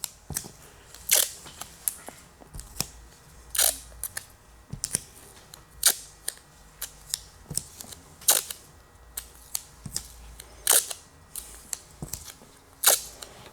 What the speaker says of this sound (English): Grab your tape, stack up 6 pieces.